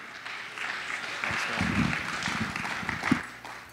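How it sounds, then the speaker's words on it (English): Guests at a wedding reception in Dallas applaud the newlywed couple. The clapping swells from quiet to a fuller burst in the middle, then tapers off near the end, with some murmured voices underneath. "let's give another round of applause for the brand new couple"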